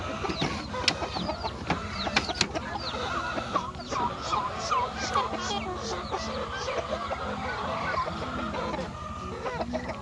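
Japanese shamo chickens cluck and squawk in a farmyard, a busy overlapping chorus of short calls at moderate distance with occasional sharper cries.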